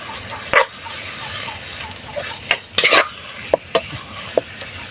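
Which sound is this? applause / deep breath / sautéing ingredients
sautéing ingredients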